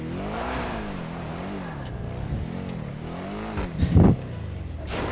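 Tuned cars racing in the video game GTA, engines droning and rising and falling in pitch as they rev, with a brief louder burst near the end.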